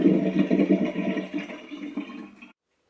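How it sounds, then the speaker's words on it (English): Rinse water tipped out of a container of vegetables, a continuous splashing gush lasting about two and a half seconds, close and fairly loud, then stopping abruptly into silence. "then I empty out all the water and just leave it in the bottom to drain"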